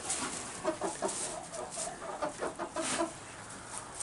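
Several chickens cluck in short, uneven bursts close by, with a steady background hum underneath and no talking.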